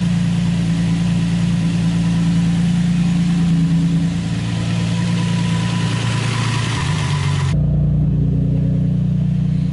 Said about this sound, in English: when I let the car sit, it sounds like it's got cams